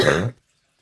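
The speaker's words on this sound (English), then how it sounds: "Cough." A single short, harsh cough, close to the microphone, followed by silence.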